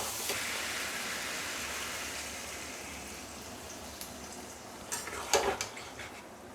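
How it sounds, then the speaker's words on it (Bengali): Water poured into a pan of sautéed vegetables for a home-style Bengali hilsa fish curry: a steady, faint hissing wash that slowly fades, followed by a few brief clinks and rattles near the end. "জল দিয়ে দেবো।"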